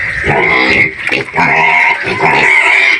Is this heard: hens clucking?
no